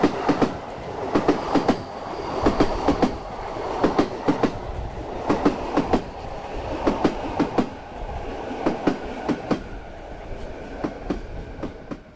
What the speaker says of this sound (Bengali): তারপর কিন্তু ট্রেন যাওয়া শুরু করলো।